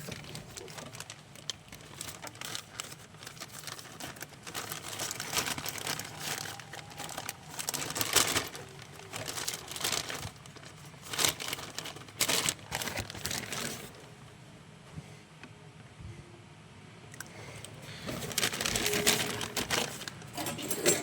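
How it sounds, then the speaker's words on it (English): Dust mask being stuffed into its bag makes close, irregular crinkling and rustling of plastic that comes in bursts over about twenty seconds with quieter pauses between. No voices. "Put my dust mask in its bag so we don't get it filthy."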